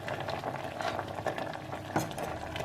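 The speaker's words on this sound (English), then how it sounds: "I'm boiling this palak also." Palak (spinach) boils in a pot on the stove, soft bubbling and faint simmering close by with a few small clinks, quiet and without talk.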